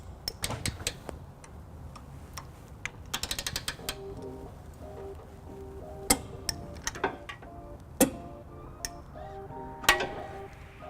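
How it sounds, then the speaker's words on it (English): A torque wrench tightens trailer hitch bolts on a 2003 Lexus RX300, giving sharp, close clicks that come in rapid bursts and scattered single snaps over a low mechanical ratcheting background. "you'll hear that value reached when the wrench clicks"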